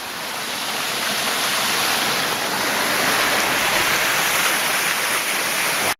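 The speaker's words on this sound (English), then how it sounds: "just passing another little stream area" Small stream running beside a hiking trail on the Waipio to Waimanu Valley route, a steady broad rushing wash of water, close and continuous with no voices, cutting off abruptly at the end.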